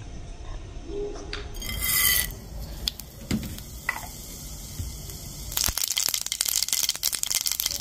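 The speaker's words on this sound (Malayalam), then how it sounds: "കടുക് പൊട്ടി കഴിഞ്ഞപ്പോ" Mustard seeds crackle and pop in hot coconut oil in a small pan, with a sizzling hiss and a quick run of sharp spatters near the end.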